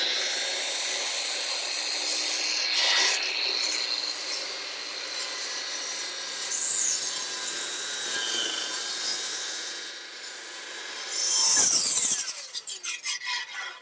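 A circular saw started well clear of the workpiece, then cutting through timber in a mass timber training setting: a sustained loud whine with shifting load, rising strain near the end, then tailing off into pulsing pieces as the blade slows.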